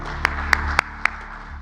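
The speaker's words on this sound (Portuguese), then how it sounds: "Aplausos," At a cybersecurity forum, a handful of distinct, evenly spaced claps ring out, about four sharp hand-claps over a low steady room hum, sounding like the sparse start of audience applause.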